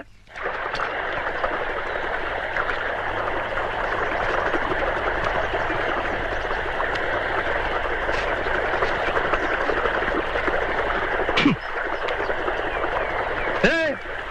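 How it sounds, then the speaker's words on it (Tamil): Water from a pump set rushes steadily through an irrigation channel, a continuous loud flow with a few brief higher sounds over it near the end. "வாக்கியால் எவ்வளவு தண்ணி போகுது"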